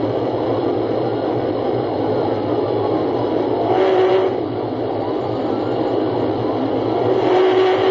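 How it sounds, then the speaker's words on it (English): Sport motorcycle engine fleeing a police chase, heard as a continuous distant whining drone under broad roadway and wind rush, with slight swells in pitch and level. "Crotch Rocket moving."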